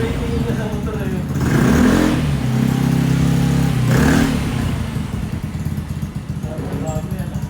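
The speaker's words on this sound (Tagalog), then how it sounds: "tingin na sa motor na yun." Motorcycle revving nearby, its engine note swelling twice to a loud roar and falling back to a rough idle, with people talking over it.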